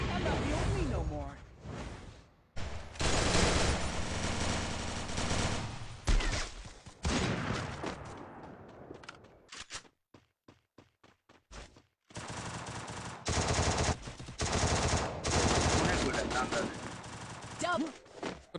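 Rapid bursts of gunfire in the video game Free Fire, loud and dense, with pauses between volleys and a brief quiet stretch mid-clip.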